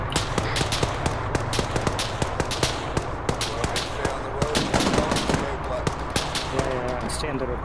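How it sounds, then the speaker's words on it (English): Rapid airsoft gunfire during a milsim game in the field, sharp cracks in irregular bursts, some close and some farther off, continuing throughout, with players talking and shouting over the shots. "We're taking fire, we're taking fire."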